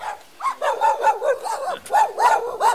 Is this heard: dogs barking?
yes